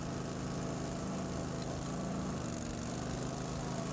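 Stump grinder shredding roots out of a tree stump, a steady droning engine with a grinding cutter held at a constant, fairly loud level throughout with no pauses.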